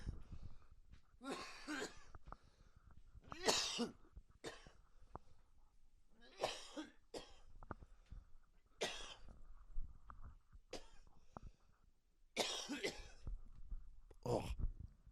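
Repeated harsh coughing bursts, several in a row with short gaps between them, close and fairly loud, with some breathing in the pauses.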